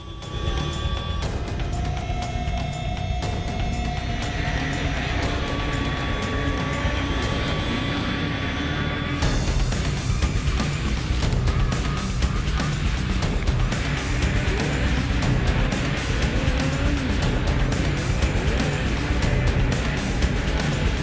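Snowmobiles race in a snocross event at Lake Geneva, Wisconsin, their engines whining and droning loudly and continuously, with a sharp surge in intensity partway through as sleds pass close.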